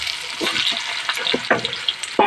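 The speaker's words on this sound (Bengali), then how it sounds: "সেই তেলে এবার আলুগুলো ভেজে নেব" Large-cut potato pieces fry in oil with a close, busy crackle and sizzle, punctuated by scraping stirs.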